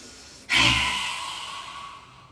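A single deep breath drawn in through the nose during a qigong session, starting abruptly and trailing off slowly as a long airy hiss.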